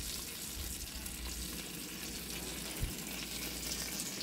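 Crab frying in a pan with garlic and a little salt, a steady close sizzle with soft crackling throughout and one small knock partway, no voices heard.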